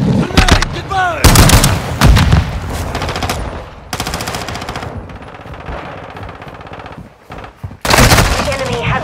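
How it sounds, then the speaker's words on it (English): Rapid bursts of automatic gunfire and shots in Call of Duty: Modern Warfare II Team Deathmatch on PS5, loud repeated volleys with brief pauses, mixed with game voice callouts and effects. "Taking fire!"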